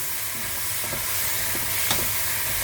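Spicy Thai shrimp stir-fried in a hot pan, a loud steady sizzle with occasional scraping clicks of a spatula, close up with no voices.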